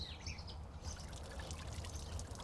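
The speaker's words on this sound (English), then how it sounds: "The water, sound of the water is so soothing." Water trickles and pours steadily in a cool, shaded collaborative garden among green bushes, a continuous close wash of sound with faint bird calls above it.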